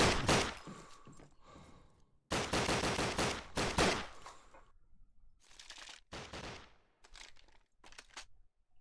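Rapid gunfire bursts in a competitive shooter video game, loud clustered volleys of shots separated by short gaps, with quieter single cracks toward the end.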